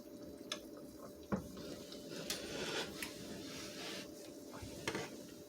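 Shakshouka simmering in a pan while eggs are basted, with soft bubbling and a few sharp spoon clinks and taps against the pan over a quiet, steady background.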